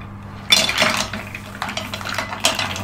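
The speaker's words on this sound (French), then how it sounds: "On va y déposer les moules" Mussels being set down on an upturned pot lid on a worktop, giving a few close clattering, clinking bursts of shells against metal.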